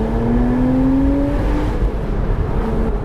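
Porsche Boxster Spyder 987 flat-six engine pulling hard from a junction, a loud steady drone with rising harmonics from inside the car, continuous and close with no talking.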